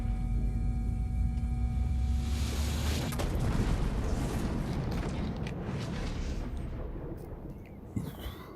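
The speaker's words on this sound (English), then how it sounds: "that seems like a big boom" A big explosion in Assassin's Creed Odyssey fills the scene with a dense, roaring rumble that holds steady and loud for several seconds, then thins slightly, with a brief sharp thump near the end.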